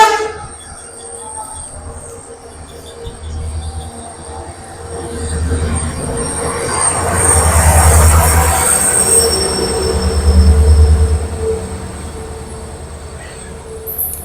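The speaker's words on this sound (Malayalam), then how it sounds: "നല്ല സുഖമായിട്ട് ട്രെയിൻ വരുന്നുണ്ട് ട്രെയിൻ ഇവിടെ സ്റ്റോപ്പ് ഇല്ല" A train passes through a small station without stopping, heavy low roar swelling and fading with metallic wheel squeal and screeching on top, loud and continuous.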